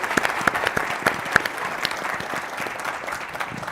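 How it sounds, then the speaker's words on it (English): Conference audience applause at a tourism industry general session for Hyatt joining as an early supporter, a steady patter of many hands at moderate distance with no talking over it. "So let's clap for Hyatt."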